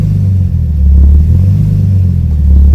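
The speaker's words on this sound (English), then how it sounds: "Now it's revving." An R32 Nissan Skyline's RB25DE-T engine, which has a fluctuating idle, hums low and loud up close, swelling into a short rev and settling back, then rising again at the end.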